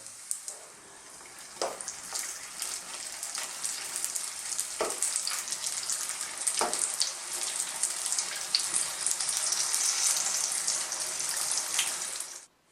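Tofu and bean sprout lumpia frying in oil, a steady close crackling sizzle with scattered pops and occasional clinks of a utensil, fading abruptly at the end.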